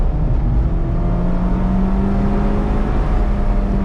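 A Mazda MX-5 Miata RF GT with an automatic gearbox drives hard into a corner, giving a loud, steady engine drone with a rising tone over road and tyre roar.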